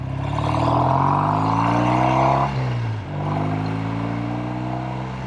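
A vintage 1969 Triumph TR6R Tiger 650 motorcycle with a single concentric carburetor revs up close by, its engine pitch climbing, dipping briefly, then rising again in a smooth, loud drone.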